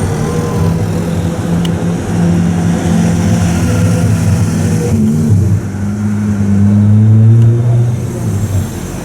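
A Pagani Zonda 760 supercar engine roars loud and steady throughout, with the pitch rising and falling as it revs and accelerates.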